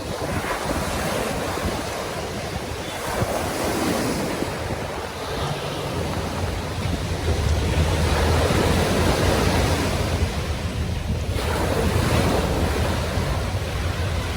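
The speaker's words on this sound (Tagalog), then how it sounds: "At ganito nga po kalakas ang alon ngayon." Strong waves crash and surge without pause at Dolomite Beach on Manila Bay, a loud, continuous roar of surf mixed with heavy wind buffeting the microphone.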